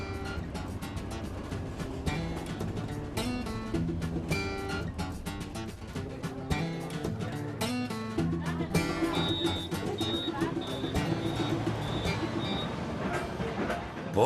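Train running on rails in Madagascar, a continuous rumbling ride with rhythmic clattering and metallic clanks, layered with other busy sounds, faintly recorded.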